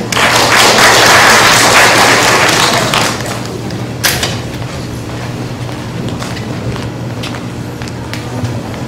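An audience applauding to welcome the Hungarian Trade Office deputy representative on stage at a working holiday information session in Taoyuan; dense clapping fills the room for about three seconds, then thins into scattered claps and room noise.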